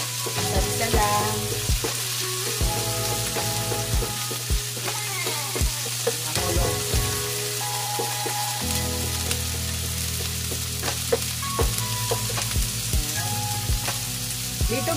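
Meat sizzles and fries in a pan for ginisang monggo, a steady close crackle broken by repeated scrapes and clanks of a utensil stirring against the pan, with no talk over it.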